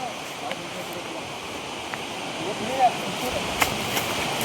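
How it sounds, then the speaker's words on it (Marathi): A steady, broad rush of flowing river water fills the whole clip, fairly close, with a few faint clicks and knocks on top. "नदी ही समोरच आहे बघा"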